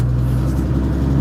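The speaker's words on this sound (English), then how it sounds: "I hardly get to rev this thing up." LS V8 engine in a car revving up close, a steady, loud, deep rumble with heavy low-end throb and no talk over it.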